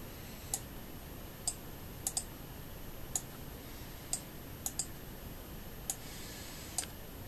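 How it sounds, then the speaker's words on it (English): Sharp, quiet clicks on an audiometer's calibrate button, about a dozen spaced irregularly, some in quick pairs, over a faint steady hiss. "Come back here and we click calibrate."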